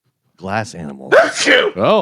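A sharp sneeze bursts out on a talk radio show, loud and close, immediately between people speaking.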